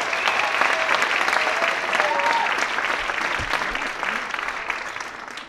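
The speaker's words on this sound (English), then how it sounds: "we want to give them another round of applause" An audience at a staff dance show applauds, a steady round of many hands clapping, full at first and gradually thinning toward the end, with faint voices mixed in.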